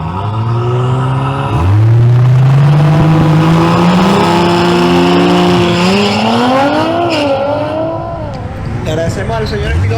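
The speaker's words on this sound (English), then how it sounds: "We now have the duel again between Edinson Quintero's Audi RS5 and Juan Trejo's BMW M240i xDrive." An Audi RS5 and a BMW M240i xDrive race at a track, engines revving and rising in pitch as they accelerate, loud and close, under a commentator's voice.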